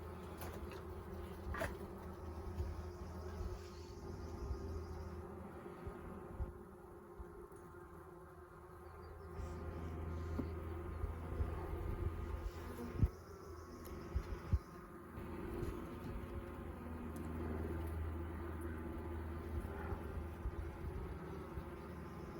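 Honey bees buzzing during a hive inspection, a dense steady drone close by that swells and thins slightly throughout, with occasional faint knocks and no voices.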